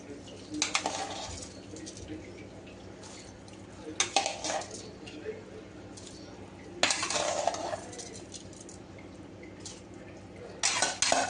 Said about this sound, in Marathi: आता तांदूळ टाकते मी.